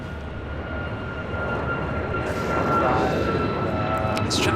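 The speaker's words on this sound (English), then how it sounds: "It's China Southern Cargo Flight 2537 coming in from Anchorage, 777 and freighter." A China Southern Cargo Boeing 777 freighter arriving from Anchorage gives a steady, broad engine roar that swells slightly as it nears, heard at a distance at a busy airport with no talk.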